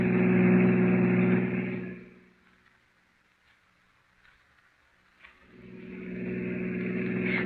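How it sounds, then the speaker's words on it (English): A car engine roars loudly at speed, fades away to near silence, then swells back up as the car races on, a radio drama effect from a 1942 crime mystery. "I'm driving as fast as I can, Miss Prentice."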